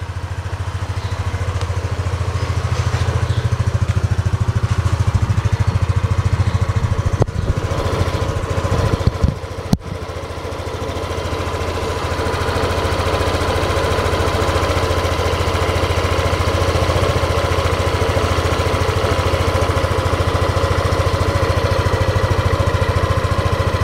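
A Yamaha Aerox scooter engine runs steadily right after starting, a close, continuous buzzing drone with a brief burst of clatter midway, then it settles back to an even idle.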